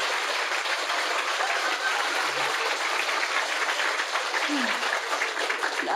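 Sustained audience applause from a crowd at a spiritual talk, many hands clapping in a dense, steady wash that fills the whole stretch at even loudness, with no pause or voice breaking through.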